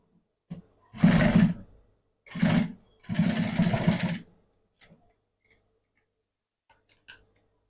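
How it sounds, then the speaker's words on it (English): Sewing machine stitching down fabric while a tie is being made, with three close bursts of rapid mechanical whirring separated by short pauses, followed by a few faint clicks. "So here we sew it down."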